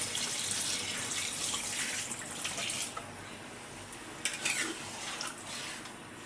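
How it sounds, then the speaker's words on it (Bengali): Curry broth poured into a cooking pot of rui fish with potol, a steady soft splashing rush of liquid that runs the whole time, faint and close with no voices. "এখন ঝোল দিয়ে দেবো।"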